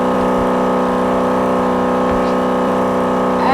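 A race car on the backstretch at Daytona, a loud steady engine drone with strong sustained harmonics, close and continuous without a break, and nobody talking.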